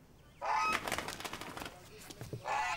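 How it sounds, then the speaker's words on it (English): A goose honks indoors in a village post office, loud bursts at the start and end with a run of rapid squawks and flutters between. "you must keep the goose outside"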